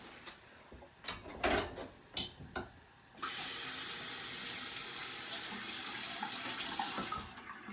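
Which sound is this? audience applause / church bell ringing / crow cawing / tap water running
tap water running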